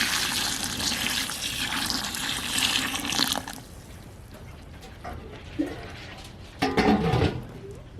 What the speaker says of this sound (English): Okay, so now we put the rinse water in.